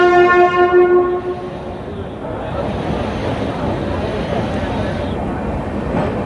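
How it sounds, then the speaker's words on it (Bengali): Amrit Bharat Express train departing platform 1 at Malda Town, opening with a loud harmonic horn blast, then a sustained rumbling roll of rail cars close by, with a voice faintly underneath. "মালদা টাউনের 1 নম্বর প্ল্যাটফর্ম থেকে এটা ছেড়ে বেরিয়ে যাচ্ছে"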